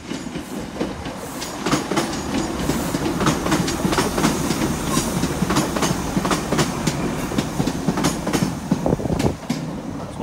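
A train passes through Bristol Parkway station on the Great Western main line, with steady rumbling and rhythmic clickety-clack of wheels over rail joints, loud and close throughout.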